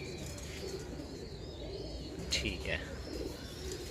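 Slate-grey Kamangar pigeons coo softly in the hot Multan summer, a low murmuring backdrop with a couple of brighter calls near the middle, while someone talks over them throughout.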